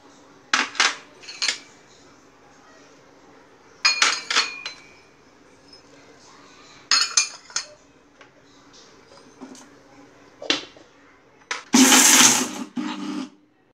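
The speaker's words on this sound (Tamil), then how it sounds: "இனி நம்ம இந்த பொருட்களை எல்லாம் மிக்சியில் போட்டு நல்லா பொடிச்சு எடுத்துடலாம்" A kitchen mixer grinder powders tulsi and thuthuvalai leaves for karupatti coffee, running in short pulsed whirring bursts separated by pauses, the last burst the loudest and harshest, all close up.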